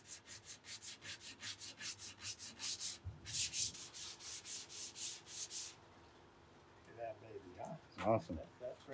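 Sandpaper rubs back and forth over a wooden cigar box guitar in fast, steady strokes, with a brief pause partway through and a few soft knocks and scrapes near the end.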